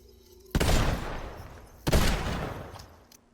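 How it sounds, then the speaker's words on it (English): Two loud pistol shots in the video game Fortnite, each a sharp blast with a decaying tail, spaced about a second and a half apart, followed by a faint click. "Pistol."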